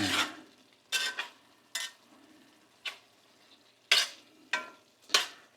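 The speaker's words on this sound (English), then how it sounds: "So I'm going to let this simmer for a little bit." Keto burrito filling simmering in a pan on the stove, giving short bursts of sizzling and stirring at irregular intervals with near silence between them.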